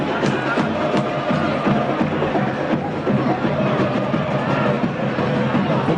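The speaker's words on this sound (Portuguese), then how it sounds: "Estamos com o som ambiente do Majestoso." Football supporters fill the Majestoso stadium with a steady, dense roar of crowd ambience at a Ponte Preta versus Grêmio match, with commentators talking over it.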